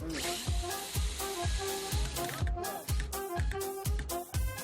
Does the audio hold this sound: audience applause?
no